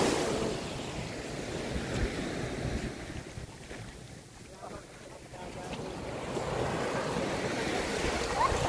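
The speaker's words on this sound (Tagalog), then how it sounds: "Grabe yung alon doon." Ocean waves wash continuously at a beach on Naked Island, a broad rushing surf close by with wind buffeting the microphone, and faint voices talking underneath.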